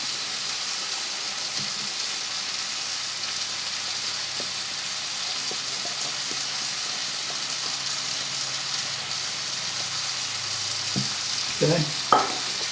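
Pork chops browning in a pan for a Pork Chops Supreme dish, giving a steady close sizzle and fry crackle throughout, with a few louder pops and stirring clatters near the end.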